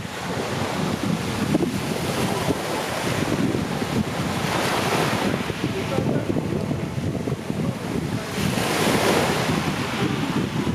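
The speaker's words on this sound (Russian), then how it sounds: "Море очень хорошее, красивое, чистое, соленое, вкусно пахнущее, почти всегда с легкими волнами" Light sea waves wash onto a beach at Camyuva near Kemer, Turkey, a continuous surf rush that swells and eases in slow surges, with wind buffeting the microphone throughout.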